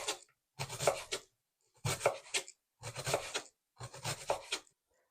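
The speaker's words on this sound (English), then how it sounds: "let's thinly slice our onion" A knife thinly slicing an onion, four separate bursts of quick close cutting strokes with short silent pauses between them.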